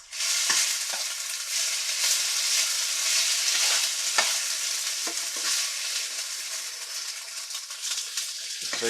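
Cubed pork for teriyaki sizzles and fries steadily in a non-stick pan, a continuous loud crackle with occasional stirring scrapes and no talking.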